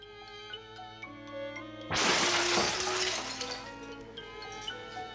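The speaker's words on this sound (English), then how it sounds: "Break the glass and set yourself free. Break it. Smash it." A sheet of glass shatters with a loud crash about two seconds in, followed by tinkling shards settling, set against a sustained ringing musical backdrop.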